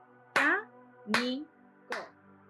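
A workshop audience claps along to spoken syllables, three separate clap bursts each paired with a voiced syllable, fairly quiet against a faint steady hum.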